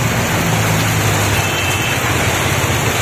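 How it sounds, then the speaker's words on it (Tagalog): Heavy rain pours in a steady, loud, unbroken wash of broadband noise, with a faint low rumble beneath and no voices. "Inaabot tayo ng malakas ng ulan"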